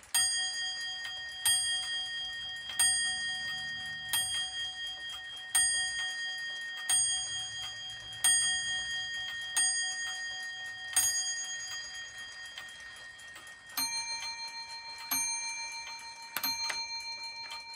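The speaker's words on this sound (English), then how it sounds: "The three-quarter position strikes the large bell 9 times for 9 o'clock and the small bell 3 times for 3 quarters past the hour." An antique Shield clock striking its quarter-hour chime on a large and a small bell: a slow, evenly spaced series of bright, ringing strikes, each decaying before the next, close and clear, followed by a few quicker higher strikes.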